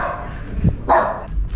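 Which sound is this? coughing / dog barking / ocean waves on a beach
dog barking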